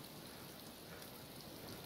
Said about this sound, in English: standing out in the rain